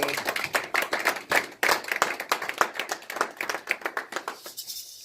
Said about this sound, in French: Est-ce qu'on peut donner une main d'acclamation pour la parole de Dieu?